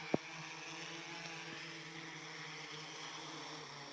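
A camera drone hovers in to land with its electric motors running, a steady faint whirring hum with tonal buzz, opened by a single sharp click.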